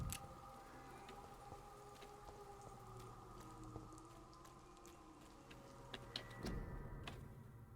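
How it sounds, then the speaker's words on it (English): Rain falls in the video game Vampyr as a quiet, steady patter of drops with light ticking, joined by a soft low tone and a brief louder knock near the end. "Hey, and it's raining again."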